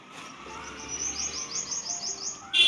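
A faint, distant bird gives a quick series of about eight high chirps over a soft background hiss, ending with a brief louder noise.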